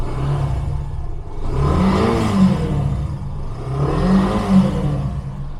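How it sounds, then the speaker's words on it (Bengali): A Yamaha FZ-S V2 motorcycle with about 7,343 km on it revs close by in two swelling bursts, the engine rising and falling back to a steady idle between them. "আমি আপনাদেরকে স্টার্ট দিয়ে দেখাবো এবং গাড়ির সাউন্ডটা শোনাবো কেমন কন্ডিশনে আছে"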